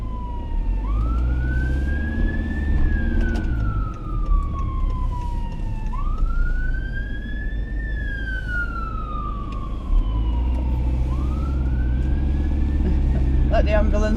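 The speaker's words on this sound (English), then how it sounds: "Let the ambulance pass." An ambulance siren wails in rising and falling sweeps as it passes along a seaside promenade, loud and steady over car engine rumble.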